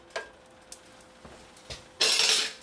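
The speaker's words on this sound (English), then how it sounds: "let's add the butter" Butter drops into a hot pan with a short burst of sizzling, after a few light clinks of utensils against cookware in a quiet kitchen.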